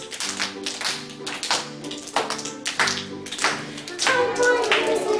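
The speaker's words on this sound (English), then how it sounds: "So time for music, clap your hands." Preschool children clap their hands in a music lesson, a steady series of sharp claps in rhythm over sung melody, fairly close and even in loudness throughout.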